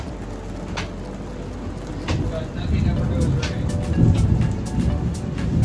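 Rain falls steadily during Florida's rainy season, a dense hiss with a low rolling rumble of thunder that swells toward the end, heard under voices talking.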